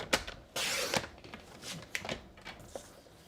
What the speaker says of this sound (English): We're gonna cut 2 pieces to 4 by 4.